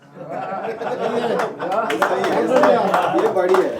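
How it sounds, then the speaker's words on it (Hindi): Audience clapping at a comedy open mic, with chuckles and chatter mixed in, a steady patter of claps building under ongoing talk in the room. "आप लोगों ने तालियां बजाई हैं"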